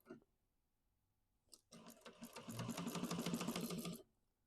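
A sewing machine stitches around the seam of a large duffel bag, starting after a brief quiet pause and running steadily for about two seconds as a close, rapid mechanical clatter before stopping abruptly.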